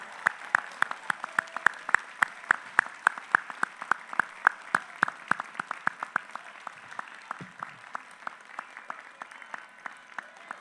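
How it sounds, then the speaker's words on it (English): Graduates at the Los Angeles City College 2022 commencement applaud their families and guardians. Steady, sparse claps repeat for several seconds in a large, echoing space, with no talk over them. "give them a round of applause to thank them for getting you here today"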